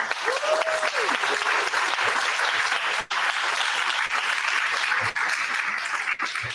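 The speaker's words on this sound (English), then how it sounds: "Let's give another round of applause to Shadi" A crowd applauds a speaker at a startup week session, sustained dense clapping throughout at close range, with a faint whistle early on and no speech over it.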